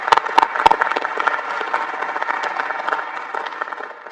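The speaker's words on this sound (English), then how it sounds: "let's give them a warm round of applause." Civilian audience applause for Air Force service members at a gathering about F-35 fighters at Truax Field in Madison, a few sharp claps up front followed by a moderate, steady patter of clapping.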